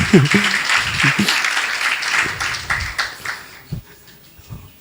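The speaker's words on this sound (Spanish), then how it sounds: "Denle un fuerte aplauso a nuestras madres guerreras." A church congregation claps loudly and steadily, the applause gradually thinning out and fading into a few scattered claps.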